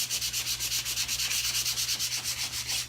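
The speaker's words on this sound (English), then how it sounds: "I've got to get a different piece of sandpaper." Sandpaper rubbing back and forth on a Christmas ornament in quick, steady strokes, a close, even rasping rhythm over a low constant hum, with no talking.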